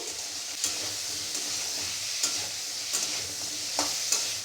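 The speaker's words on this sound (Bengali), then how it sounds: "পটলগুলো একটু ভালোভাবে ভাজা ভাজা করে নেব গ্যাসের ফ্লেমটা হাইতে করে দিয়ে" Pointed gourd and tomatoes fry over a high gas flame in a pan, with a steady close sizzle and repeated scraping of a stirring spoon every second or so.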